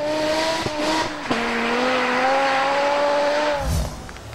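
Car rear wheels spinning with tires squealing, a sustained shrill tonal squeal that shifts pitch and holds for several seconds over engine noise, then cuts off with a thump.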